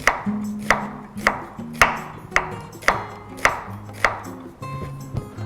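A kitchen knife chops food on a cutting board in a steady series of about ten sharp, close knocks, with faint tonal background sound in between.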